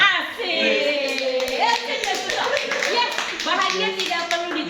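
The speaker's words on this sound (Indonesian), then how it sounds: "Oke, tepuk tangannya buat semuanya." An audience claps together at a devotional gathering and Dhamma sharing session, steady dense applause lasting throughout, loud and close, with some voices mixed in.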